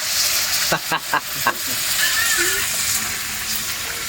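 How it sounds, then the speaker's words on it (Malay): Steady broadband sizzle of fish frying in a pan at a windy beach campsite at night, with a few brief clatters and faint voices in the background. "Goreng."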